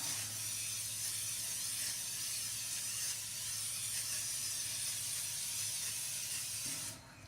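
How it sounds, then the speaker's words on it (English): A long, steady hiss of butter spray from an aerosol can onto a pan, close and continuous for several seconds before cutting off. "I'm using butter spray today"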